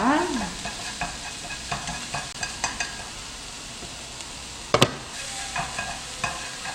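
Beef seasoned with soy sauce and sugar is stir-fried over low heat in a pan for japchae. A close, steady sizzle carries a regular series of spatula taps, then a sharper clatter near the end, with no talking.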